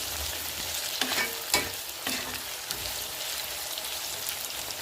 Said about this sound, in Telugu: ఇవి కూడా నూనెలో చక్కగా మగ్గిపోతే బాగుంటుంది. ఇవి కూడా కలిపేసుకుందాం గట్టితో.